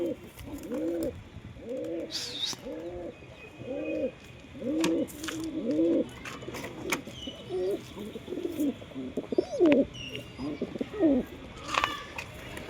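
Pigeons in a cage, including green-eyed and Giribaz pigeons about to be released, coo in a steady repeated rhythm of throaty calls, close by, with sharp chirps and a few flutters mixed in.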